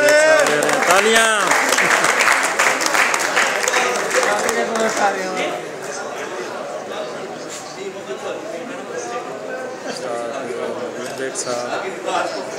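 A crowd claps at the Hajj Cup Jeddah 2014 prize-giving ceremony, the applause dense at first and gradually thinning while an announcer keeps talking over it.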